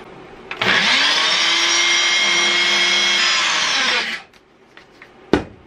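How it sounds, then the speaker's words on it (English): A blender whirs loudly and steadily as it blends dry flour with salt and fresh garlic cloves, running for about three and a half seconds before winding down, followed by a faint knock. "And I'm gonna blend it up."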